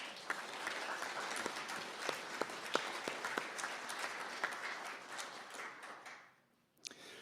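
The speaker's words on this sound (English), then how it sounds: "Let's give them a round of applause." A round of applause at a sermon, with many hands clapping steadily and a few sharp individual claps standing out, fading to near silence toward the end before a last stray clap.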